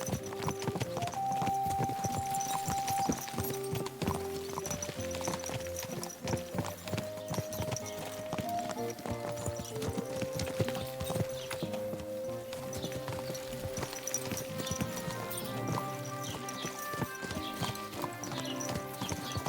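Steady hoofbeats of a galloping horse in the video game Kingdom Come: Deliverance 2 run throughout, with music playing over them and no talking.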